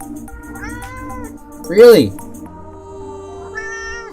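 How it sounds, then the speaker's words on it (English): A house cat gives a single loud, drawn-out meow close by, rising and falling over about half a second, with a person speaking briefly before it and quiet background sound around it. "Oh, the cat's back."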